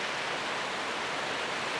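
Rain drumming steadily on a metal roof over a framing job site, a dense, even hiss of constant droplets at moderate volume with no voices.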